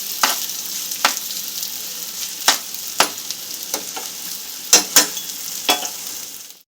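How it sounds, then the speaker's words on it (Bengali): Rice and chana dal stirred in hot oil in a pan, a steady soft sizzle broken by a series of sharp scraping strokes from the spoon at irregular intervals, close and fairly loud, with no talking. "চাল আর ডালটা একটু তেলের সঙ্গে একটু নাড়াচাড়া করে নেব।"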